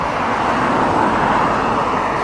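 Road traffic rolls past on Downing Street as a steady, dense rumble of cars and buses, continuous and fairly loud with no speech.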